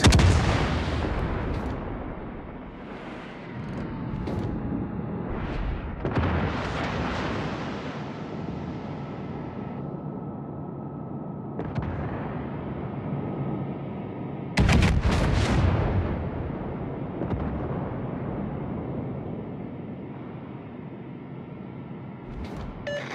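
Artillery fire in a naval clan battle video game, heavy broadband booms arriving in several bursts with sustained rumbling between them, loud and close, no talk.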